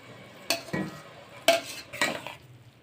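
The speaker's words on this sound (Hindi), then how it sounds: "तो चावलों को इस तरह से चाशनी में शामिल कर देंगे।" Spoon clinks and scrapes against a pot while rice is folded into sugar syrup for sweet zarda, three or four distinct knocks spaced about half a second apart, close and alone.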